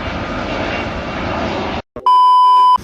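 An airplane drones steadily overhead outdoors at a skateboarding spot, a loud continuous engine rumble that cuts off abruptly and is followed by a sustained electronic beep.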